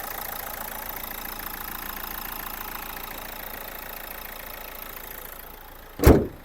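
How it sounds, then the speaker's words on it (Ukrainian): A Renault Megane 1.5 dCi K9K diesel engine idles steadily with an even, rumbling knock, then a brief loud thump near the end. "Двигун працює чітко."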